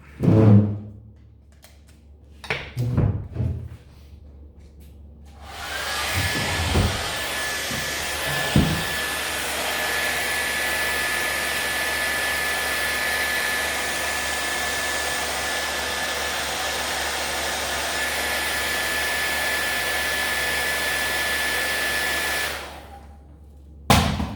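A heat gun warms glue on a Steinway piano hammerhead, first preceded by a few sharp knocks and clatters, then a loud, steady blowing roar that runs for about seventeen seconds before switching off.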